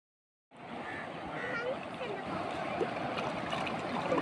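Water flows near Hogenakkal falls, a broad, continuous rushing wash that starts abruptly after a brief silence and holds steady, with faint voices mixed in.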